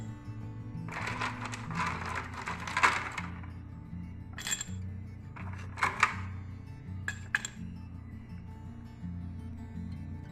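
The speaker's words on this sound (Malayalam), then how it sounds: "ഇനി ഇതിലേക്ക് നമുക്ക് ഐസ് ഐസ് കട്ട ഇട്ട് കൊടുക്കാം" Ice cubes dropped into glasses for iced black tea with lemon, a run of clinking clatters in bursts, close and fairly loud over a low steady hum.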